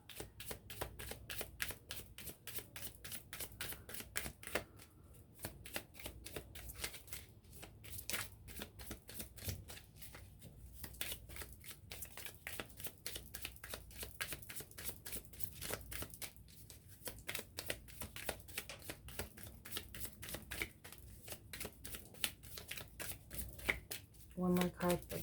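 Tarot cards shuffled over and over in a quick, crisp rapid riffle, close up and continuous under a person talking.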